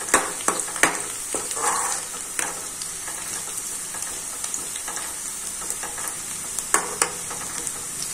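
Onions fry in a pan, with a steady hiss broken by scattered pops and stirring clicks, fairly close and moderately loud, with no voices.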